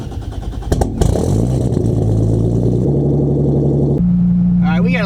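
A 700 hp 2JZ-GTE engine in a Lexus IS300 cranks over and fires up loud and close, then settles into a rough, throbbing idle with rising revs before a final blip and a brief voice at the end.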